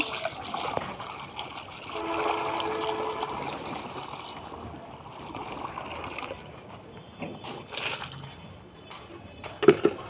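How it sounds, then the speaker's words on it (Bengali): Water trickles and splashes as it is poured out for pigeons, a soft liquid dribble at moderate level with a sharper knock near the end. "ওই আগে পানিটা দিয়ে নি"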